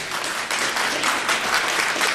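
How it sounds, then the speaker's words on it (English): Audience applauding at a school district address, a brief burst of dense clapping from a crowd. "That is worthy of applause."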